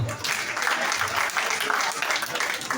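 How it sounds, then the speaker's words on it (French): An audience at a holiday-resort evening show finale claps loudly and continuously for a few seconds, a dense, even burst of applause. "Applaudissez pour vous."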